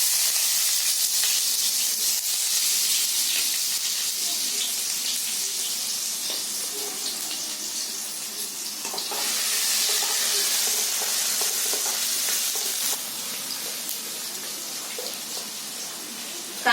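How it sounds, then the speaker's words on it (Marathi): Onion hits hot oil in a kadhai and sizzles with a steady, even hiss that holds for the whole stretch, swelling slightly partway through, with no talk. "तेलामध्ये आता कांदा टाकते."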